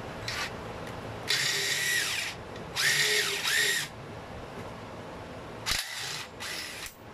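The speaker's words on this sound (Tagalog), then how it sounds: "So na pwede na natin gamitan ng ratchet." A power ratchet loosens a hot bolt on a Toyota Fortuner shock absorber, two long whirring bursts followed by shorter clicks and spins, close and fairly quiet with no speech.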